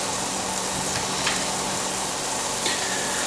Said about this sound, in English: So now that the water's boiling